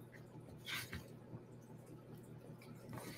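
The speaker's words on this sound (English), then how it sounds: "Yep, putting it back in the water." Freshly cut potato fries are dropped back into a bowl of water in a home kitchen, making soft, quiet splashes, squishes and drips spread across a few seconds.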